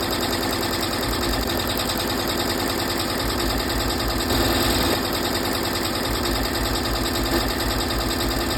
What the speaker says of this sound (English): we're going to stitch out step 26 to tack down the backing at the bottom of the purse